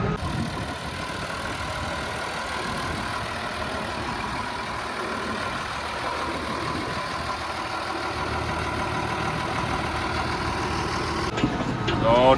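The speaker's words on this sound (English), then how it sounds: "So the tractor we're in is a 3095 Massey Ferguson 2-wheel drive." Steady engine drone of a Massey Ferguson 3095 two-wheel-drive six-cylinder tractor, heard from inside the cab, a constant low rumble running throughout with a faint rattle near the end.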